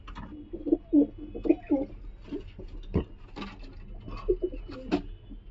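Giribaz pigeons cooing softly with low throaty coos and scattered patters and scuffles, fairly faint and close, repeated irregularly across several seconds.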